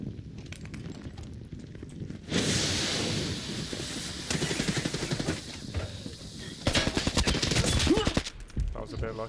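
Gunfire in the video game Arena Breakout: bursts of automatic fire and rapid shots, loud and close, with quieter stretches of movement and footsteps between volleys.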